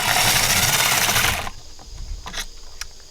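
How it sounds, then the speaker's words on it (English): A loud power drill whirs continuously boring a hole in a wind chime tube, then stops abruptly, followed by a few light clicks and handling sounds. "slowly, holding your drill as straight up and down as possible"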